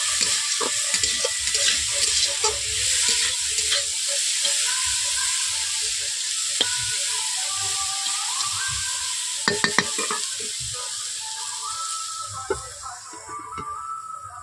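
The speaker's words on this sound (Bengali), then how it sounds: "দেখতেই পাচ্ছেন সবজিগুলো আমার ভাজা হয়ে গেছে।" Flat beans fry with turmeric in a wok, a loud steady sizzle with scraping stirs and clinks of a spatula throughout, with no talk.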